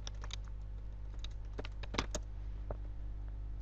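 Quick clicks of a computer keyboard being typed on, irregular and fairly faint, with several sharper keystrokes standing out against a steady low hum.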